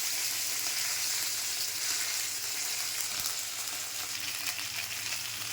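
Cumin and garlic frying in hot oil in a pan, a steady close sizzle running throughout without pause, with no voices.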